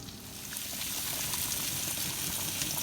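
Fish crackles and sizzles as it fries in a pan, a steady hissing spatter that holds evenly throughout without pause, faint and somewhat distant.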